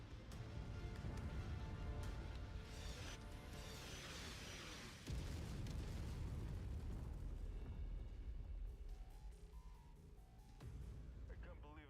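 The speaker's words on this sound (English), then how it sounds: "Just getting pounded by artillery in this thing." Heavy artillery explosions pound a mech in a robot combat video game, deep booming blasts rolling one after another, loud and dense with rumbling bursts.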